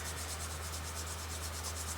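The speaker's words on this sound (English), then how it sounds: "whenever you're sanding a pipe stem" Steady rhythmic rasping of sandpaper rubbing back and forth on a vulcanite rubber pipe stem, close and continuous, over a low electrical hum.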